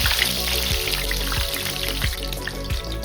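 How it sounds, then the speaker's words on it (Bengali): Sliced eggplant frying in hot oil in a pan, a steady dense sizzle and crackle holding at an even level throughout, close and continuous with no talking. "এই যে বেগুনগুলো কাটা ছিল এইগুলোকে আস্তে আস্তে বসিয়ে দেবো।"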